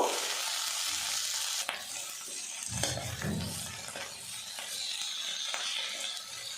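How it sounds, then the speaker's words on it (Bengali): Tomatoes and flat beans fry in a pan, giving a continuous close sizzle with scraping stirs and occasional clatters of the spatula over several seconds. "শিমের সাথে টমেটো বেশ কিছুক্ষণ নাড়াচাড়া করে ভেজে নেব"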